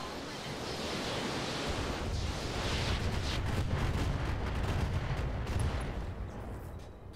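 Mech firing all of its weapons at once in the Roguetech video game, a sustained loud roar of overlapping blasts and rumbling explosions lasting several seconds.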